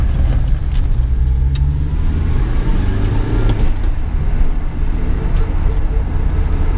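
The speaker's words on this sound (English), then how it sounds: "Just making a U-turn in third gear." A 1991 Subaru Sambar 2WD van drives while making a U-turn in third gear, its engine and road noise a loud, steady low rumble heard from inside the cabin.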